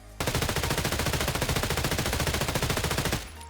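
An MPX submachine gun in Escape From Tarkov fires one long, rapid full-auto burst, loud and close, with dense evenly spaced shots lasting about three seconds before cutting off.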